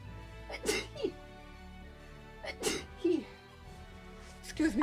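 A person with a dust allergy sneezes three times in a row, each one a sharp, close burst with short pauses between, in a quiet indoor room.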